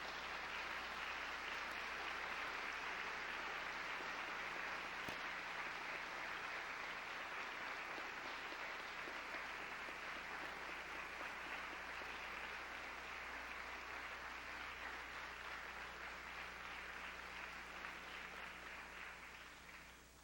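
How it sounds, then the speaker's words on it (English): A college graduation audience applauds the faculty in a long, dense, steady burst of clapping that holds for about twenty seconds and then tapers off at the end. "I wish you would stand up and applaud this group of people right back here called the faculty of this college"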